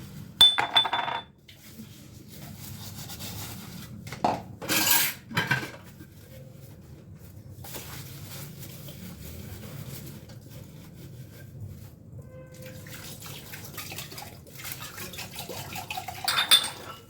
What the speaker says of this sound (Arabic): نتوما معايا البنات نغسلوا هاد المينات